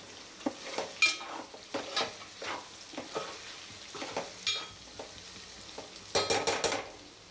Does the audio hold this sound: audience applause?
no